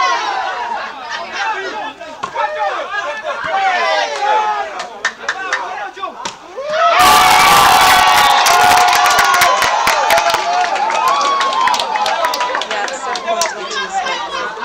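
Volleyball arena crowd at a men's Serie A match, Elyon versus Sky, chattering steadily, then erupting midway into loud, sustained cheering and shouting that holds at full volume to the end.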